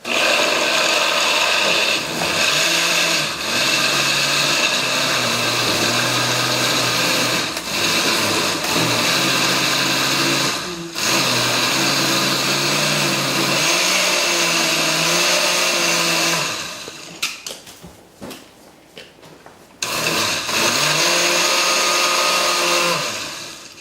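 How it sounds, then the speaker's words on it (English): A blender making a green smoothie whirs loudly and continuously, pausing briefly near the end before starting up again, with no talking. "Let's see if I can work this blender."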